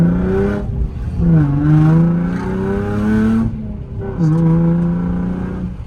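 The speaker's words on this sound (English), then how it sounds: "This car sounds good" A used car's engine revs up and eases off in two or three smooth surges on a first drive, heard from inside the car and fairly loud, with little talk.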